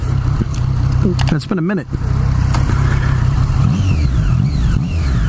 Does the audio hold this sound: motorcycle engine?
yes